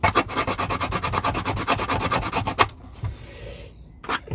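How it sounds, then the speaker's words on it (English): Hand filing on a wooden part for a cigar-box-style guitar build: a close, steady run of quick rasping strokes for a couple of seconds, then stopping, with a few scattered scrapes afterward. "I'm just filing it back very gently."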